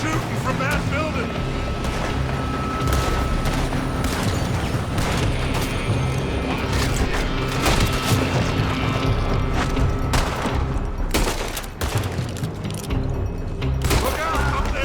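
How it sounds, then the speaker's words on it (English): Gunfire pours from a building during a Red Dead Redemption 2 shootout: dense, continuous booms and thuds of shots and mechanical clatter layered with game music and effects, loud and sustained throughout. "They're shooting from that building!"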